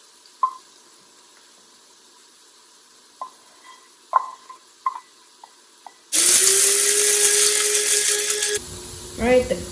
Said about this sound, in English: we're gonna go ahead and grind this